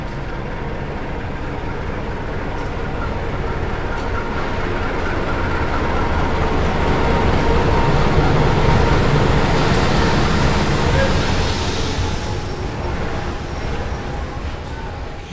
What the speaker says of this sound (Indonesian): yang barusan masuk adalah kereta api Putri Deli dari Medan menuju ke Tanjung Balai